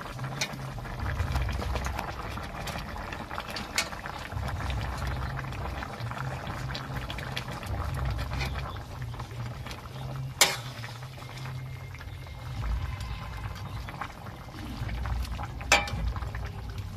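Tilapia pieces going into a pot of simmering cauliflower and potato curry, a steady low bubbling boil with faint liquid patter and a couple of sharp clinks, fairly quiet throughout.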